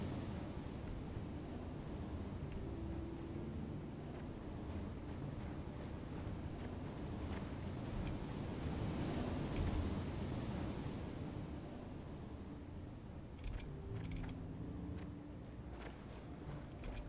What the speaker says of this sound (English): This is a waterfall that's bugged out.